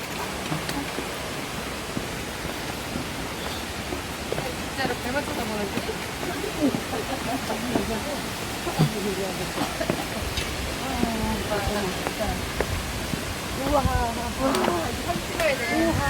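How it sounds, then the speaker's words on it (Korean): Steady roar of a 33-meter waterfall in the Osaka area of Japan fills the scene, broad and continuous, with faint scattered voices beneath. "생각보다 상당히 폭포가 상당히 높습니다"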